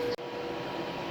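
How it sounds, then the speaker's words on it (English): The cooling fans on an MPP solar inverter give a steady broadband whoosh at a moderate distance, interrupted by a brief dip near the start, with no voices over it. "that is my MPP solar inverter cooling off"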